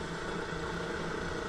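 A diesel heater drones steadily in a damp, cold blacksmith's workshop, a faint, even hum with a slight mechanical flutter and no variation across the short stretch.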